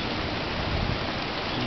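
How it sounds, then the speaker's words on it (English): During a tropical storm on a coast, heavy rain makes a dense, steady hiss on every surface, with a faint low rumble beneath it. "And of course it's raining."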